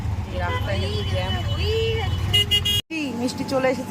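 Jammed road traffic on a bridge in light rain, with car horns tooting in short bursts over a steady engine rumble; a voice talks over the traffic throughout.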